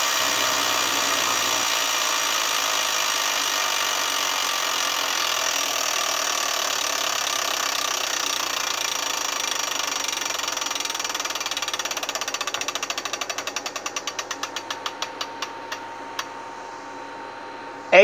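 The wheel of an electronic Wheel of Fortune tabletop game spinning, a whirring mechanical drone that slows into a run of ticking clicks spreading further apart until it stops, ending with a sharp sound.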